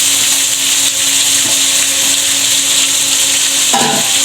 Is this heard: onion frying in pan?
yes